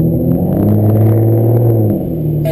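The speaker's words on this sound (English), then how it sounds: "Listen to that engine." Aston Martin DBS on a racetrack, its engine revving loudly and up close with a deep, rising and falling rumble, easing off briefly near the end.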